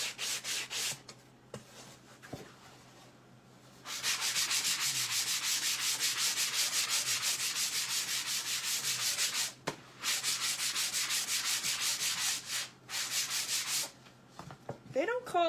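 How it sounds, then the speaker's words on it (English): Wood being sanded by hand, with long steady stretches of dry, close scratchy rubbing broken by a few short pauses, and quieter handling noises at the start and end. "let me get this just sanded real quick."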